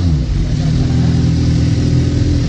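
A motorcycle engine at roughly 85 decibels runs loud and close, a steady, dense revving drone that holds throughout without breaks or talk.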